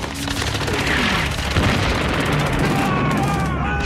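An artillery bombardment on D-Day in Normandy gives a continuous loud roar of shells exploding, with dense rumbling blasts and crackling bursts that overlap throughout.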